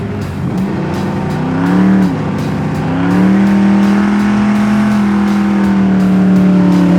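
A 1971 Chevelle SS muscle car engine roars loud and close, its pitch climbing through gear changes as it accelerates hard, with a sustained throaty drone.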